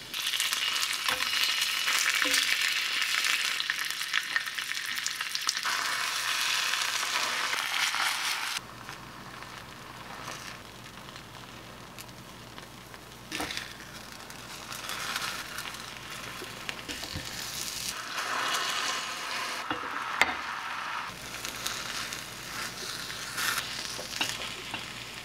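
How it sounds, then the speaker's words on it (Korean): Pollock roe (myeongran) fries in a pan with a steady crackling sizzle, louder at first and then settling into a softer continuous spatter with occasional pops, close and without talking. "명란을 구워서 하면 더 맛있을 것 같아서"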